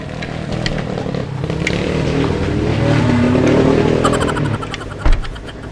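Motorbikes roll past a roadside warung eatery close to a MotoGP circuit, a steady, loud engine drone that builds through the middle with a sharp clatter near the end.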